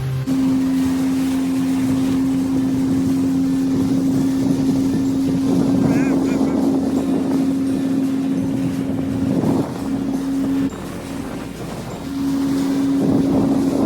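A shared motorboat carrying about ten passengers speeds across open sea toward Elephanta Beach on Havelock Island in the Andamans, its engine droning steadily under wind rush and splashing water, with a brief dip in engine tone near the end.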